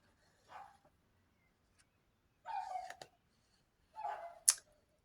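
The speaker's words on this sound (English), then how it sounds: "Bless them, they bark at anything." Neighbouring dogs bark next door, giving three short separate bursts of barking at a moderate distance, with quiet gaps between them and a sharp click near the end.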